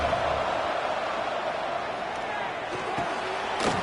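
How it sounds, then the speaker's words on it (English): Dense, steady roar of a college football stadium crowd during a red zone defensive stand, loud and continuous throughout with no lulls, swelling slightly near the end. "And here comes the noise. This crowd is trying to inspire this defense to make a big red zone stop."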